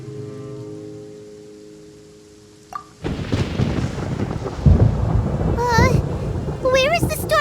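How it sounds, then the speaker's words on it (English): Thunder rolls in a Genshin Impact storm scene, a deep, loud rumble bursting in after a quiet stretch and continuing with rain-like noise, joined by bright rising game chimes near the end. "Paimon hears thunder!"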